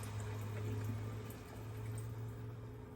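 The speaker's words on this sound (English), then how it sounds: "So I'm going to add some more water to it so that I want it to be covered." Water pours steadily into a pot of Southern stewed chicken, a continuous, fairly faint rushing splash over a low steady hum.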